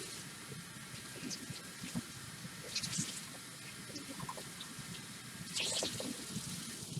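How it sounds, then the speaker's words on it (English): Tap water running while a sponge is rinsed out at a sink during a clay-working demo, a soft hissing flow with small splashes and sloshes, moderately close and fairly faint. "Rinse your sponge out."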